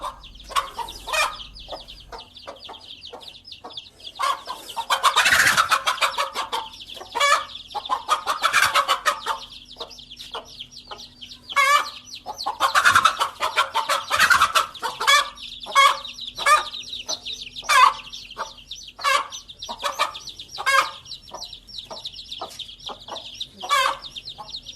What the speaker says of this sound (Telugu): ఓ కోడి తన పిల్లలను కాపాడుకోవడానికి ఓ నాగుపాముతో పోరాటానికి దిగింది